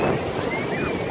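Ocean surf washes onto the beach at Robert Moses on Fire Island, a steady close rush of breaking water with wind buffeting the microphone.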